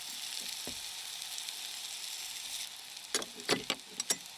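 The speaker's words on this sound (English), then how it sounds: "I'm gonna try a piece of this here steak. Oh, still sizzling" Steak sizzles steadily over a campfire, close up, with a few sharp scrapes and taps near the end.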